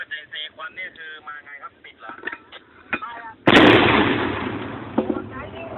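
A 120 mm mortar fires during a military live-fire exercise. It comes as one sudden, very loud blast with a long echoing rumble that trails off. Shouted commands come just before it.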